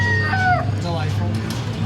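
A coin-operated animatronic chicken at a mechanical museum lets out a short, loud, wavering crow, followed by a few squawky falling notes over a steady low hum of machinery and room noise.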